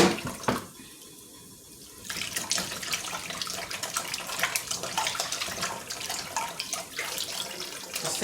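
Pork neckbones scrubbed by hand in lukewarm water, with close, continuous splashing and sloshing after a short quieter pause near the start.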